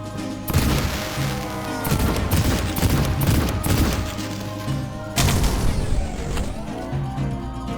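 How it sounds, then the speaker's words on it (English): Loud bursts of gunfire and explosions rip through a firefight in the game Cultic, dense overlapping blasts and rapid shots in repeated waves with brief lulls between. "Are they done exploding?"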